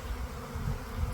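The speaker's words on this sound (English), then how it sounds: "the new hive that we brought up here with the swarm of bees" A swarm of honey bees buzzes around a new hive on a farm, a close, continuous droning hum that wavers slightly in loudness.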